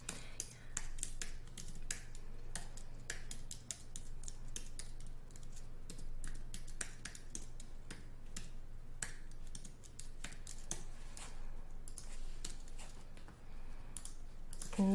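Rapid typing on a computer keyboard as the alphabet is entered into a text box, a steady run of close, crisp key clicks over a faint constant hum, with no voices.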